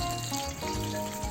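Oil sizzles steadily in a pan while pancit canton is being cooked, a continuous close frying hiss with slight shifts in texture and no talking.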